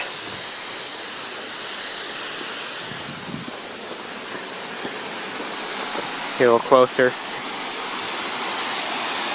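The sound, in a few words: waterfall at Turning Point Park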